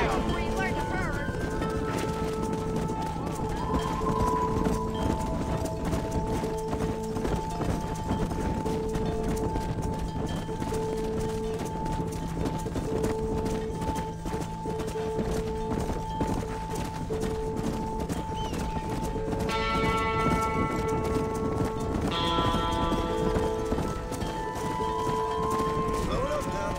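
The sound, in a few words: horse galloping, hooves clip-clopping, in Red Dead Redemption video game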